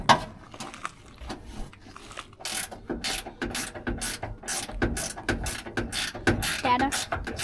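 A ratchet wrench loosening the seat bolts in a 1972 Chevrolet C10 truck, clicking in rapid repeated bursts with short pauses between strokes, close by and with no talking.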